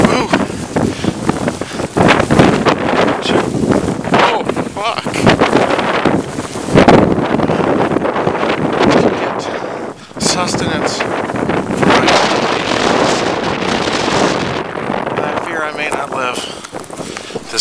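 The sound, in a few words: blizzard wind blowing on microphone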